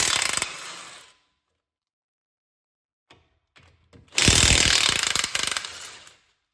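Two loud bursts of a pneumatic impact gun with a 17mm socket rattling loose front brake anchor bolts on a 2016-2021 Hyundai Tucson, separated by silence and a few faint clicks and clanks.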